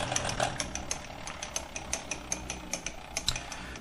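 The carriage of a Grizzly G4003 metal lathe is cranked along its ways, giving a steady series of soft, regularly spaced mechanical clicks and ticks, close and fairly quiet.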